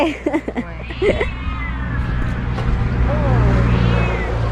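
A cat meows several times up close, short repeated cries over a steady low engine-like hum, with some talking in the background.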